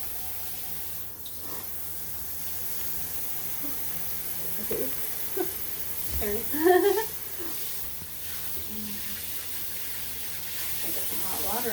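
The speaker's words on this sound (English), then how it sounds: "I get some hot water on here." Hot water runs from a tap for a kitten's basin bath, a steady hiss broken by brief splashes. A person speaks briefly over it.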